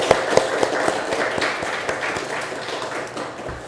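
Church congregation clapping together at a second-anniversary worship service, a steady wash of many hands that fades gradually over a few seconds.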